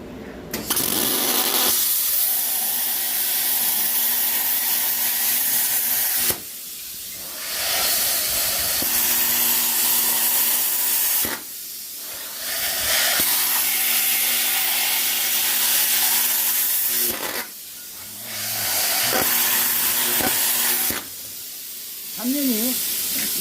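A plasma cutter slices through galvanized zinc-coated steel in several long, loud bursts of harsh hissing, each lasting a few seconds and separated by short pauses.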